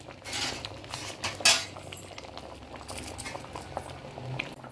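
Sambar boiling in a pot on a stove: a soft, steady bubbling and popping patter, close and fairly quiet, with a few light clinks of a utensil against the pot.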